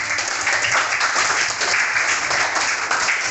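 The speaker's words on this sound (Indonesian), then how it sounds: "tepuk tangan untuk kelompok 2" A classroom of students claps steadily for a student group after its presentation on series and parallel electric circuits, a dense, even round of applause filling the room throughout.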